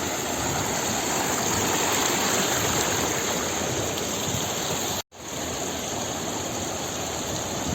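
A mountain stream tumbles over stones along a trekking route near Laspur in northern Pakistan, a constant, close rush of water with one brief dropout partway through and no voices.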